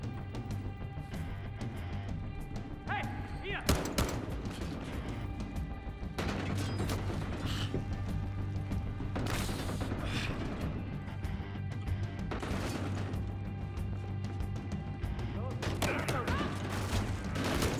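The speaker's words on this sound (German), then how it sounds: "Von der Seite kommen die Schüsse, okay?" Bursts of gunfire from the video game Battlefield Hardline, in a shootout with repeated volleys and sharp cracks over a steady game background, fairly quiet overall.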